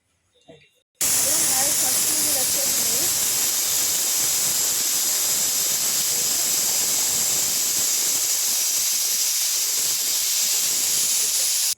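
Pressure cooker on the stove hissing loudly as it vents steam while cooking, a sudden steady blast of harsh hiss that runs on continuously after a brief quiet start with faint talk.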